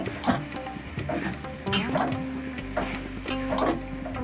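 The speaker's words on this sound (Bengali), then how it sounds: "এবার ওর মধ্যে তেল ছেড়েছে চিকেনগুলো দিয়ে দিলাম" Chicken fries in oil in a pan for a Bengali chicken malai curry. A steady sizzle runs underneath while a utensil scrapes and clinks against the pan in uneven strokes.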